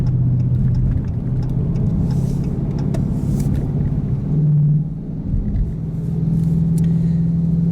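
A 2017 Dodge Challenger R/T Hemi with 8-speed transmission cruising on the freeway, a steady low engine drone and road rumble heard from inside the cabin, with a brief shift in engine pitch midway.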